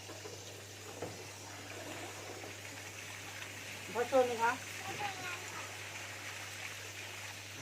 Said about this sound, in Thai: มันเปลืองน้ำค่ะ น้ำไหลทิ้งหมดเลย